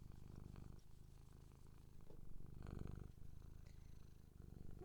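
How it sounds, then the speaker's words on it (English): A kitten called Bobby purrs loud and close to the mic, a continuous deep rhythmic rumble swelling and easing with each breath, with a few brief bumps as it nudges the microphone. "You're purring so loud, kitten. It is a mighty purr."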